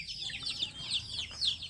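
Chickens in a coop cluck in short, high, repeated bursts, close and fairly loud over a low steady background hum.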